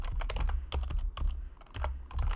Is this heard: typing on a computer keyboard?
yes